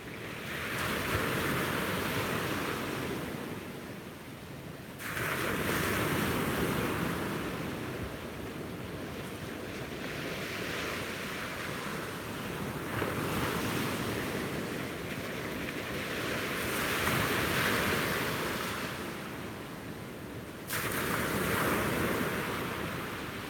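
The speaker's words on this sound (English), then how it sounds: "enjoy the sound of those incredible waves" Ocean surf rolls onto a beach on a stormy sunrise morning, a steady broadband roar with periodic louder wave surges and some wind buffeting the microphone, continuous and fairly close with no talking.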